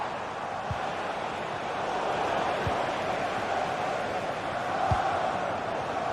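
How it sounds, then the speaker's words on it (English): A football stadium crowd urges on an Arsenal player: a steady, distant roar of many voices holding at an even level, with a few dull thuds. "The crowd encouraging him to take it on."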